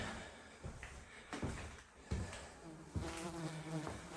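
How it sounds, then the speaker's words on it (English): Persistent insect buzzing, like several flies droning close by in a dining room and kitchen of a Detroit house, with faint knocks and clatter from a room in the background. "I don't know if you can hear all the flies buzzing"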